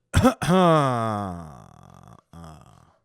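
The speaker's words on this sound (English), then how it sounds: "Do like a big cough." A single loud, forced cough bursts out up close, then trails into a drawn-out, groaning vocal tone with a short voiced sound after a pause.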